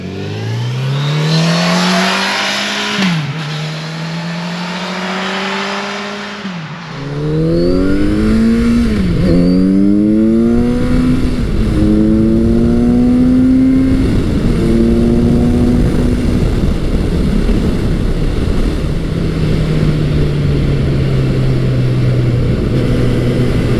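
A Kawasaki Z900RS motorcycle pulls hard on the open road, its engine loud and close as it revs up through several quick gear changes, then settles into a steady cruise under rushing wind and road noise.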